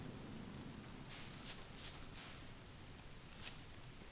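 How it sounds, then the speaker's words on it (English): Rain in the survival video game Scum falls as a steady, faint broadband hiss, continuous and alone, with a few brief brighter bursts of heavier spatter. "It's raining outside."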